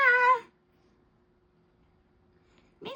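A pet cat lets out one clear, drawn-out meow up close, then the room falls nearly silent before a second meow begins at the very end.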